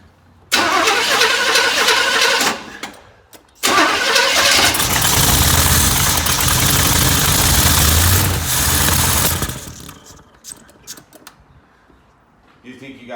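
A 1984 Chevy Blazer engine cranks and catches after gas is poured in, revving loud and rough for several seconds, cutting out briefly, then roaring again before dying down to quiet clunks.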